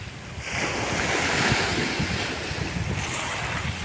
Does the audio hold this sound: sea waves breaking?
yes